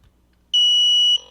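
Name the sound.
radio transmitter power-on beeps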